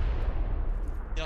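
A grenade blast in a multiplayer shooter game, a loud, dense, rumbling burst that fills the whole moment, with a brief high rattle at its tail.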